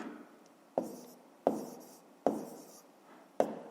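Pen or pencil writing numbers by hand on paper for a fifth-grade maths column addition, several short scratchy strokes each beginning with a sharp tap, close and quiet, no talk.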